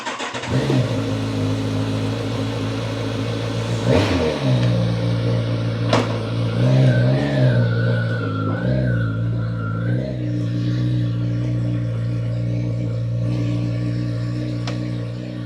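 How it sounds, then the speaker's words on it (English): A Bimota KB4 motorcycle with a 1000cc Kawasaki engine starts up and settles into a close, steady idle, with a few revs rising and falling partway through before holding a smooth, even note. "That engine note, first off, that may sound familiar because that is a 1000cc Kawasaki engine"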